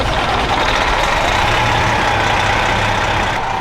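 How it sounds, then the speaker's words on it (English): A bus engine's cooling fans run at full speed, giving a loud, steady roar with a low engine drone beneath, constant from start to finish with no talking. "His fan's gonna run full time now. It's gonna be loud."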